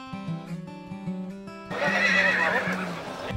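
A horse whinnies loudly and close during a group horseback ride (cabalgata) in Sonora, Mexico, over a bed of music, with a broad noisy burst of crowd or hoof sounds after.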